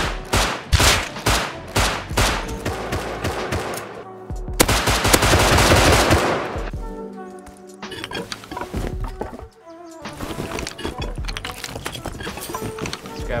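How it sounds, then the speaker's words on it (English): Gunfight in the Rust video game: rapid bursts of automatic gunfire and single shots, loud and dense at first, then a pause and scattered, more distant shots with sharp cracks continuing toward the end. "I then heard another gunfight, so naturally, I ran over to investigate."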